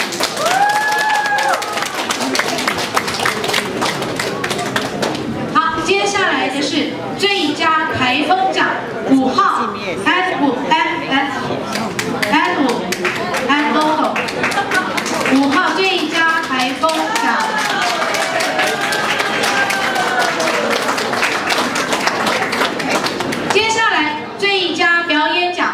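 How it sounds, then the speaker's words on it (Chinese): Audience applause at an award ceremony, a dense, continuous patter of many hands clapping that runs nearly throughout, with children's and adults' voices chattering over it. "我们掌声鼓励。"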